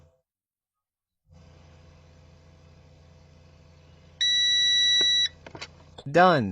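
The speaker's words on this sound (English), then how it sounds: "wait while holding down the M key until it beeps" After a low engine hum starts, the instrument cluster of a Mercedes Vito W639 115 CDI gives a single sharp electronic beep for about a second, followed by a short spoken word.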